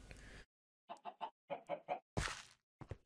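Chicken in the video game Minecraft, heard as a series of short, clipped clucks in two quick groups of three, fairly close and clear, followed by a brief rustling burst and a final short cluck.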